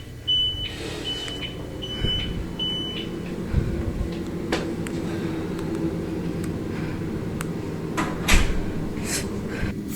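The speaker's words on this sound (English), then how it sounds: "Then the door starts to close by itself." A door swings shut on its own in a building corridor, a soft knock and creak under steady low room hum, with a faint repeating electronic beep early on and a sharper thud near the end.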